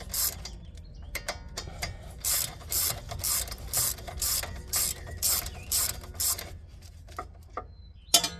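A hand ratchet clicks in quick repeated bursts while loosening a bolt on a Mazda 6 GJ control arm, close and crisp with short pauses between strokes, no talk.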